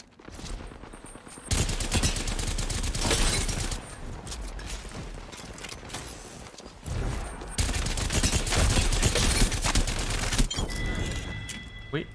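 Rapid bursts of automatic gunfire from the Havoc rifle in Apex Legends, loud and close, firing in long sustained volleys with brief pauses between them, with a voice talking underneath.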